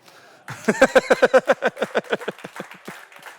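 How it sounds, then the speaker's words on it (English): Applause from the audience at a whisky masterclass, a burst of clapping that starts suddenly, peaks in a quick rhythmic run of claps, then thins and fades over a few seconds. "Can we applaud again?"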